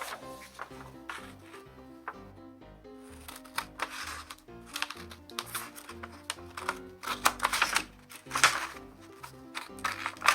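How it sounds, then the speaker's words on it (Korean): Scissors snipping along a printed line on origami paper, a series of short crisp cuts and paper rustles with irregular rhythm, close and fairly quiet, no talking. "일단 가위로 우리 른선을 잘라서 잘라내도록 하겠습니다"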